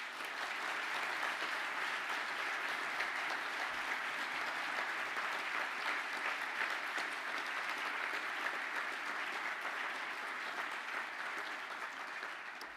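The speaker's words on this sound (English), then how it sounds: "Can the classes of mechanical engineering please stand up for a well-deserved round of applause?" Sustained applause from a graduation ceremony audience, a steady dense wash of clapping that continues evenly for over twelve seconds without talk.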